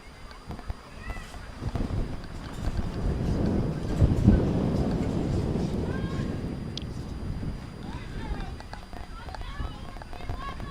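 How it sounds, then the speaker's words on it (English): Gusty wind buffets the microphone in a loud, low roar that swells in the middle, at an outdoor girls' soccer match in Vaughan, with voices faintly audible underneath. "It's been a windy day here in Vaughan."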